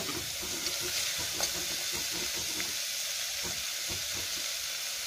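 Carrots fry in a pan for a coconut milk pulao, giving a steady, even sizzle with faint clinks and stirring scrapes throughout, close by and moderately loud.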